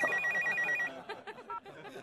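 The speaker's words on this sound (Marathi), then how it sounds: "अगं हे फोन रिंगच्या आवाजात काय रडतीयेस?" A telephone bell rings in a quick, trilling burst at close range, then stops as a voice starts speaking.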